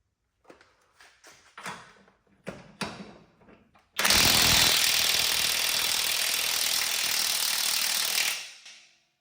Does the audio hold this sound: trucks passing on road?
no